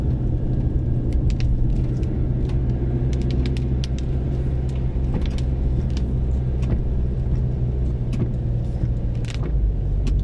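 A car drives the Old Zigzag Road (Bitukang Manok) in the rain, heard from inside the cabin as a steady, loud low rumble of engine and tyres with scattered ticks and taps on top.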